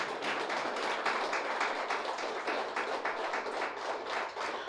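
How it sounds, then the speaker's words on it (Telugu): Sustained applause from an audience at a Pyramid Center anniversary gathering in Meerpet, dense steady clapping filling the room without pause and with no voices rising above it. "గట్టిగా చప్పట్లు కొడదాం."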